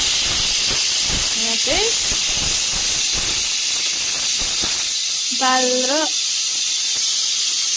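A pressure cooker holding buff meat and dal on an organic wood-fire stove vents a loud, continuous high steam hiss throughout, while someone speaks briefly and a few short tonal sounds break through.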